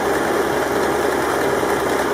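An overlock sewing machine stitches through fabric, giving a steady, continuous mechanical hum and whir at close range, running evenly without pause and with no voices.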